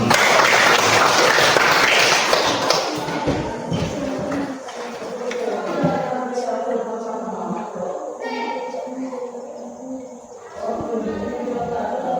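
Students in a classroom clap together in a loud burst for the first few seconds, then the clapping fades into scattered voices and general classroom chatter.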